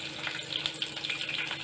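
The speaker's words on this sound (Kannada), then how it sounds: "ನೋಡಿ, ಕಬಾಬ್ ಎಲ್ಲ ಫ್ರೈ ಆಗ್ತಾಯಿದೆ" Kebabs frying in hot oil, a steady bright sizzle with small crackling pops running throughout, close and fairly quiet, with no voices.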